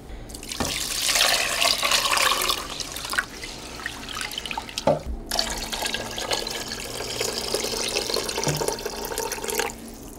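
Tap water runs steadily into a kitchen sink or bowl for making rice water for soup, a continuous splashing stream with brief interruptions, close and fairly loud.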